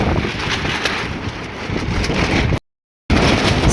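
Strong wind buffeting a microphone high up at a rooftop octagonal brick chimney stack under construction, a loud steady roar that cuts out briefly near the end.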